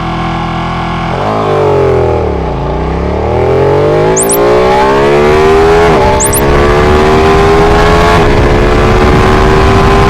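A loud Ducati 959 motorcycle engine idles, then revs up sharply and holds a high, rising whine, with a couple more throttle blips along the way.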